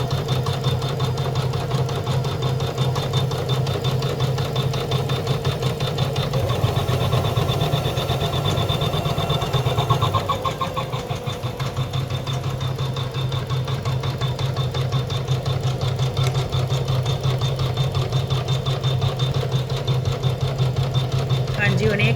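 Computerized embroidery machine stitching steadily at 500 speed, a continuous rapid mechanical chatter with a low motor hum that runs unbroken throughout, with someone talking over it.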